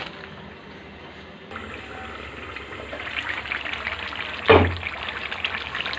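Water is poured over lentils to soak them, a quiet hiss that builds into a fuller trickling pour, with one sharp splash or knock near the end, close and without voices.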